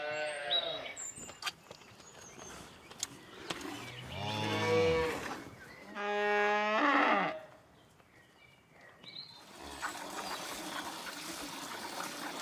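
A herd of cattle on a Georgian hillside farm in the Borjomi hills lows in several long, loud moos, one after another, over a steady outdoor background.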